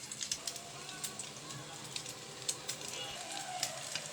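A light afternoon snack frying in a pan with a soft, continuous sizzle and occasional sharp crackles and pops, fairly quiet and steady throughout.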